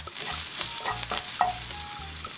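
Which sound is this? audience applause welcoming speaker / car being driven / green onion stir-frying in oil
green onion stir-frying in oil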